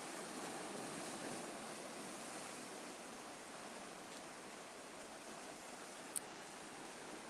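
Ocean waves crash on rocks in a continuous, broad roar of surf that swells slightly at the start and holds steady throughout, with one brief faint tick near the end.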